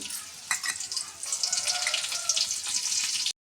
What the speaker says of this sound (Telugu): ఆయిల్ ఇటు ఎక్కిందండి ముందుగా ఎల్లుల్లిపాయలు ఎక్కలేస్తున్నాను జీలకర్ర వేద్దామండి